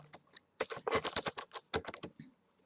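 Bursts of quick keystrokes on a computer keyboard, clattering in close irregular runs with short pauses, entered while writing C programming code.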